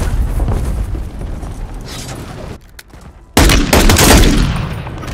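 Gunfire in Call of Duty Warzone, a loud burst of rapid shots and booms that stops briefly before a second dense, close volley.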